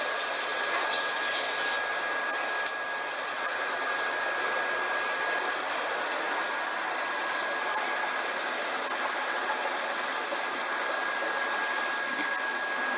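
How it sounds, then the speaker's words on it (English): A pan being rinsed under running kitchen tap water after stir frying green beans, a steady broadband rush of flowing water throughout, with a faint constant hum underneath and no speech. "rinse this off"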